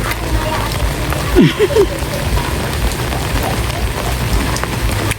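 Steady rain hiss fills the background near a flooded bridge, a dense broadband patter with a few brief louder sounds and faint voices in the mix.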